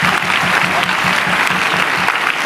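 Loud rhythmic applause from a church congregation, a dense crowd clapping in a steady beat close by, with faint voices underneath.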